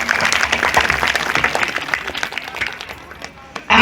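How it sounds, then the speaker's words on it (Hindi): A crowd at a satsang gathering claps loudly in welcome, a dense burst of applause that gradually thins out before a sudden loud sound at the very end. "श्री गुरु देव जी के नाम से जोर से ताली बजा के स्वागत अभिनंदन"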